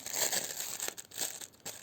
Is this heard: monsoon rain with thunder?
no